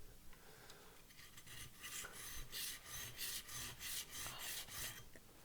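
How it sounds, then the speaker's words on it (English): A hand tool scraped back and forth across an extra coarse sharpening stone, a steady gritty rasping in repeated strokes, close and moderately loud, with no talking. "I have this one, which is an extra coarse, or I think it's extra coarse. And this will grind it off a little bit faster."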